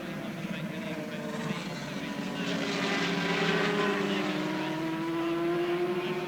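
A 250cc racing motorcycle at Silverstone in 1985, its engine note rising and sweeping past as it goes through a corner, heard under a commentator's voice.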